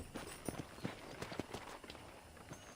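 Horse hooves clip-clopping while riding in Red Dead Redemption, a quiet run of irregular soft thuds spread over a few seconds beneath low background noise.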